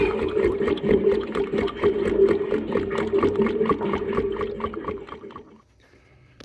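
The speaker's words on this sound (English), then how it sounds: "I didn't want the oil splashing back up on it, so a little bit slow" Oil flowing and splashing out of a track tamper, mixed with a steady mechanical hum and rapid rhythmic pulsing, fairly close and continuous before fading to near quiet at the end.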